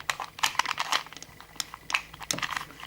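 A 3x3x4 Rubik's cube is scrambled by hand, making quick bursts of plastic clicking and clattering layer turns, close and irregular, with brief gaps and no speech.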